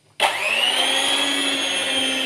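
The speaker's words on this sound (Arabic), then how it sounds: "فخلينا نشتغل في البوله وخلاص بالمضرب الكهرباء" Electric hand mixer switching on and whirring steadily as it beats ghee in a bowl, a loud close motor whine holding an even pitch throughout.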